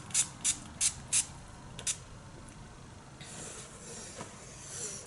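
A makeup setting spray pump gives five quick, sharp mist bursts in a row, the last one a little apart from the others, followed by a quiet room hush.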